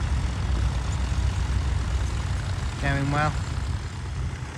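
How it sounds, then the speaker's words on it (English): Massey Ferguson 135 tractor engine running steadily while ploughing at a ploughing match in Norfolk, a constant close drone with a brief voice over it. "Another little Massey 135. Look, a popular little tractor for this job."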